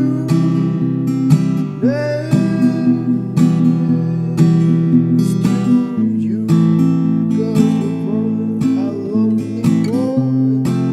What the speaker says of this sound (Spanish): Vamos con una demostración y suena así